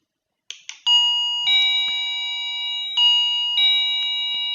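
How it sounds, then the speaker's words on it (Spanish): An electronic doorbell on a home setup being converted to a smart bell with an ESP8266, a couple of short clicks then a bright multi-tone chime that rings repeatedly and sustains clearly, with no voices. "¿Qué pasa cuando hago sonar el timbre?"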